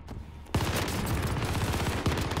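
Rapid gunfire from a rifle in a video game bursts in after a brief quiet moment, a dense run of loud, closely spaced shots with heavy low-end thuds throughout.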